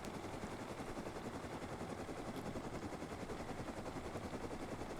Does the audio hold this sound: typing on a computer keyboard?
no